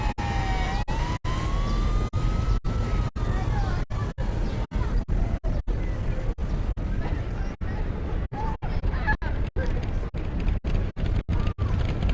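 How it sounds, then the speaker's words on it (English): Emergency vehicle siren wailing on a hazard-filled street, its rising and falling tone steady and fairly loud behind traffic noise, with a chopped, intermittent texture throughout. "the sound of an emergency vehicle approaching in the distance"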